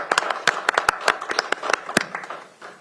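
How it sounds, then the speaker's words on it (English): Scattered hand claps from a small audience at a county council meeting, sharp separate claps in an uneven rhythm, fairly close, thinning out after a couple of seconds with no talk over them. "Let's give her a round of applause."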